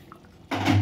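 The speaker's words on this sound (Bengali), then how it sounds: "দারুণ ঝোল দেওয়া হলো, কতটা ঝোল রাখবেন সেই হিসাবে দেওয়া হয়।" Broth is poured into a simmering Bengali chicken curry, making a sudden close splash and a sizzling bubbling rush after a quiet start, with no talking.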